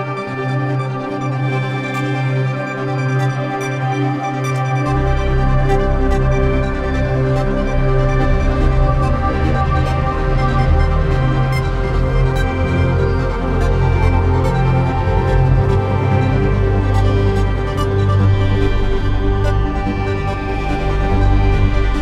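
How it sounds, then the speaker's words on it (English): A Roland Fantom EX wavetable synthesizer plays a thick, sustained, bass-heavy tone that shifts in texture over time, loud and continuous with no voices. "Now this is an incredible wavetable synthesizer in its own right."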